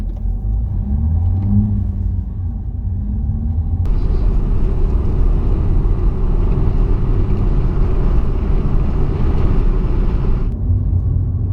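A Renault Clio 4 GT Line accelerates from 0 to 80 with the windows shut, heard from inside as a steady low engine rumble that swells sharply for about seven seconds, then drops back.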